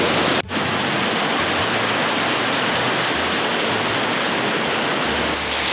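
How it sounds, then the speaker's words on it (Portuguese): Torrential rain pours down in the city of Vaasa, a dense, loud, unbroken hiss of falling water heard around a motorhome. "Conseguem ouvir alguma coisa com este ruído? É a chuva que cai. Torrencial."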